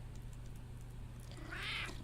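A pet cat gives a single clear meow near the end, over a steady low hum from a gaming computer setup.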